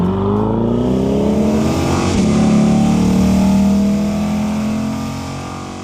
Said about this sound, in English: we test out the new 2020 Chevrolet Corvette Stingray